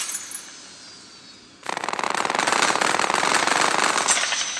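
Rapid machine gun fire from a video game starts abruptly after a quieter stretch and runs as a dense, loud, continuous burst to the end.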